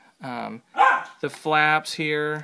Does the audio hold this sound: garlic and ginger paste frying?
no